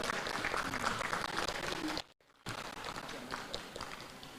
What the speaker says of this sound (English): A clap for that as well.